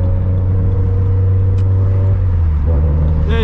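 Turbocharged Scion FR-S with a lightweight flywheel and aftermarket clutch, its engine droning steadily and loud up close while driving in the city, with a low constant rumble and a slight shift near the end; no talking.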